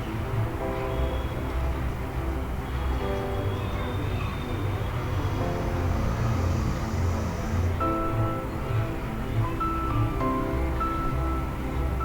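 A motor labelled motor A runs in a student engineering project demo, giving a steady droning hum with tonal harmonics that shift in pitch as its value changes, continuous and fairly loud throughout.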